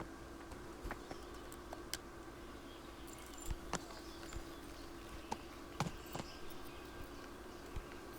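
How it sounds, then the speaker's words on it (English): Horse hooves clip-clop in the medieval video game Kingdom Come Deliverance, a few faint, sparse thuds over steady low ambient hum, with no talk. "Let's get on the horse."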